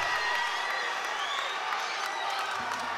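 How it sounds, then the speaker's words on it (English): Crowd at a boxing fight, Sam Yates against Leo James, roars in a steady, dense wash of cheering and applause that holds loud and continuous throughout, with commentary voices mixed in. "Crowd's going to go nuts."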